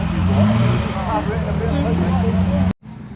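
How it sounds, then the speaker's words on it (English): A loud vintage ERA racing car engine at a hillclimb drones and rises in pitch as it revs, with bits of speech over it, then cuts off abruptly into quiet background. "that was a very noisy ERA"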